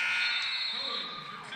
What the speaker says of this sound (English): How about that at the buzzer?